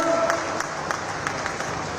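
An audience at a public scheme ceremony applauds in a steady, moderately loud wash of clapping heard at a distance over the room's ambience.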